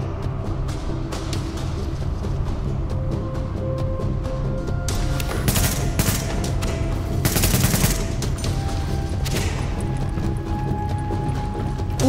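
Enemy gunfire in The Division during a boss battle, bursts of rapid automatic shots crackling over a steady game background, heaviest in the middle section.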